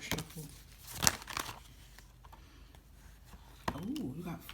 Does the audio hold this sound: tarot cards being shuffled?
yes